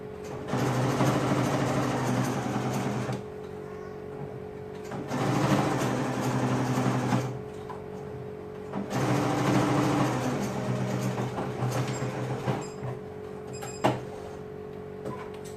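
A sewing machine with a double needle sews close to the ribbing of a boy's tank top, running in three long, steady whirring stretches separated by quiet pauses, then a few short clicks and taps.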